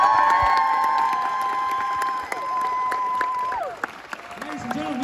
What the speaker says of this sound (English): Can we give a big cheer?